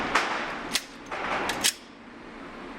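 Four sharp .45 pistol shots fired double action in a combat pistol test, spaced irregularly about half a second apart, cracking loud and close with short decays and no talk.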